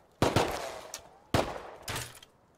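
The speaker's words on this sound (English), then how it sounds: "Scientist is shooting at me." A scientist NPC fires at the player in the survival video game Rust, two short bursts of rapid gunshots about a second apart, fairly close and clipped, no talk over them.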